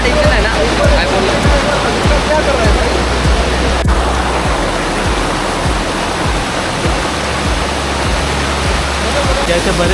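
Tahuli waterfall pours with a steady, dense roar of rushing water, close and loud throughout, while a person talks over it.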